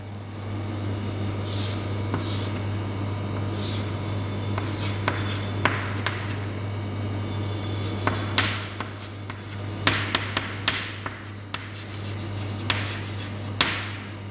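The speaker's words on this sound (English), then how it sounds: "Now we will write this." Writing during a place value lesson, close scratchy strokes and taps of a pen or marker in short irregular bursts over a steady low electrical hum, without speech.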